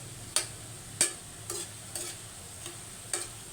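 Frozen french fries fry in hot oil while being stirred: a soft, quiet sizzle runs under about six separate scraping stir strokes, spaced roughly half a second apart. No one speaks.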